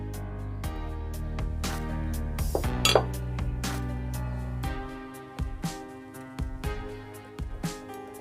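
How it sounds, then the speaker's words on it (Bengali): Sponge cake batter is beaten with flour in a bowl, a quick run of clinking, scraping strikes of a utensil against the bowl, irregular and close, with louder knocks scattered throughout. "ময়দাটা দিয়ে ভালো করে ফেটাতে হবে যাতে ময়দার কোনো দলা না থাকে"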